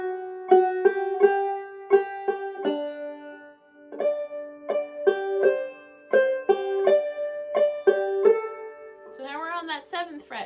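Groundhog tune played on fretted strings, likely a banjo: a plucked beginner-style melody of bright repeated notes in a steady, moderate rhythm, close and clear, ending with a short strummed flourish.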